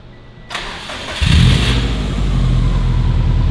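A 2007 Subaru WRX STI engine cranks and catches, then settles into a steady, loud idle rumble close by.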